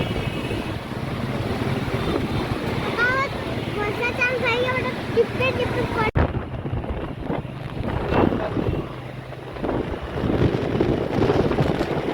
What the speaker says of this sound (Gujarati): એટલું વાતાવરણ ખરાબ છે, જોરદાર પવન આવે.